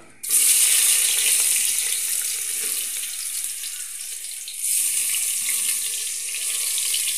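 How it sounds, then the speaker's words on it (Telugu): Chopped vegetables for pani puri drop into hot oil with a sudden loud, steady hiss of sizzling that holds throughout and swells again briefly partway through. "ఇప్పుడు నూనె వేడైంది కదా, ఇవన్నీ వేసేసుకుందాం"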